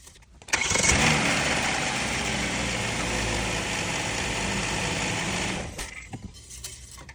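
A car engine cranks and catches with a sudden burst, then settles into a steady, rough idle close by for about five seconds before it shuts off.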